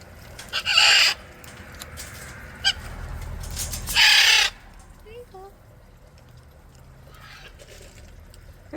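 Pet parrots calling at home around dinnertime, with a few loud, harsh squawks in short bursts near the start and middle, then softer scattered chirps and whistles against a quiet room background.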